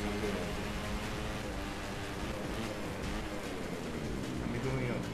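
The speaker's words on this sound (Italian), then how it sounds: "Comincia a piovere pesantemente, eh?" Heavy rain pours down in a wet race in the motorcycle racing game Valentino Rossi The Game, a steady dense hiss filling the whole stretch with a voice talking over it.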